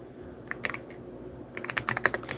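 Two bursts of rapid keyboard typing, a short cluster and then a longer flurry of crisp key clicks, tapped out close up as names are entered, with a pause between and no speech.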